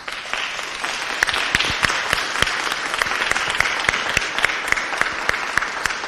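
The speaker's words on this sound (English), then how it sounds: "a big applause for them." A festival award ceremony audience claps loudly and steadily, with dense crisp applause that holds for several seconds. A few sharp, louder claps stand out from the crowd, and no talking is heard.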